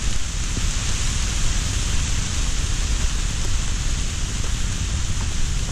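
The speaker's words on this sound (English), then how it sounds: "Blue skies and hail and rain." Rain and hail pour down in a storm on a mountain hike on Whiteface and Esther in the Adirondacks, a loud, unbroken hiss of drops striking surfaces all around, with no voices.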